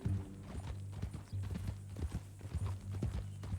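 Horse hooves clip-clop in a steady walking rhythm in Red Dead Redemption 2, close and distinct over a low steady hum.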